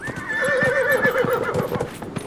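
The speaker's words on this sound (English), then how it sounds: "Yes, horse, I know you're kind of complaining" A horse in the video game Dragon Age: Inquisition neighs in a long, close, loud whinny over steady clip-clop hoofbeats, alone without talk.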